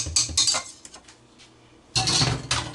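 A whisk is lifted out of a mixing bowl of meringue, giving bursts of metallic clinks and scrapes against the bowl, then a quiet pause before another clattering burst.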